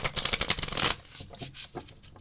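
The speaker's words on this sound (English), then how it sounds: "Please excuse the loud shuffling." Cards are shuffled loudly and close up, a rapid riffling burst followed by a few softer flicks and taps.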